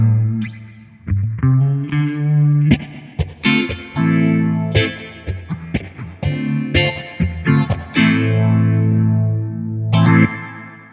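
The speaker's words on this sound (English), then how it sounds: "this will just get you a basic kind of spring reverb sound" An electric guitar plays a series of plucked notes and short chords through a pedalboard set for a basic spring reverb, with a lingering wash behind each loud, close attack and brief gaps between phrases.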